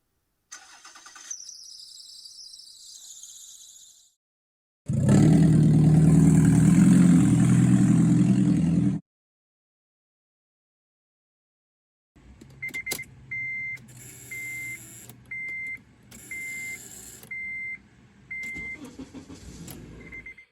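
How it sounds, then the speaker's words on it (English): A car engine cranks and runs for a few seconds, then a high-pitched electrical buzz from a failing ignition starter switch pulses on and off repeatedly over a low idle. "This buzzing noise is actually caused by the electrical ignition starter switch, which is beginning to fail."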